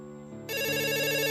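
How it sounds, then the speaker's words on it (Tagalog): A telephone ringtone starts softly then jumps to a loud, steady electronic ringing tone, sounding close and alone. "Nagri-ring na ang telepono nyo."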